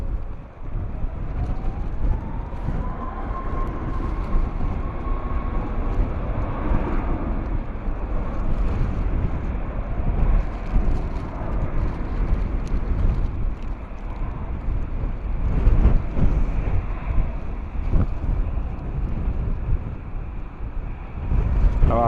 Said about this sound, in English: nice bit of runway spray there from the Ryanair 737